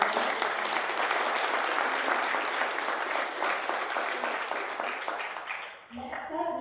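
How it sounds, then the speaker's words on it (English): Audience applause fills a youth entrepreneurs' investor panel event, steady dense clapping for about six seconds before fading, with a few voices emerging at the end. "Let's have a round of applause."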